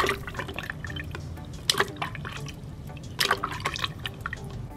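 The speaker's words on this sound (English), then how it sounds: "which creates quite a big splash" A model train with a traditional nose shape is dunked into water: splashes and sloshes in bursts, with a couple of sharper plunges among softer dripping and bubbling, fairly close and moderately loud.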